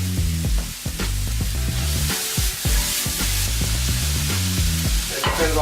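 Tomatoes go into a hot pan with black pepper for mole enchiladas, setting off a steady loud sizzle with scraping stirs throughout and tonal sounds in the background.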